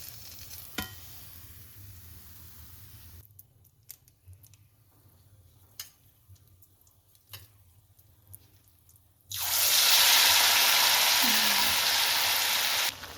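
Malpua frying in oil over a high flame, with quiet clinks and handling while the pieces are flipped, then a loud, even sizzle takes over near the end.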